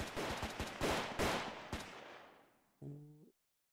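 Sniper rifles fire in SCP Tower Defense, a rapid series of sharp cracks over about two seconds that trail off into a decaying echo, followed by a brief tonal game chime.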